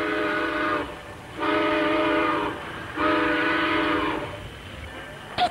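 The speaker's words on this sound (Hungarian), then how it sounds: "Mindjárt indul a vonat." Three long harmonic toots from a cartoon train whistle in a 1969 animated film, each lasting over a second with short gaps, loud and close over a faint background hum.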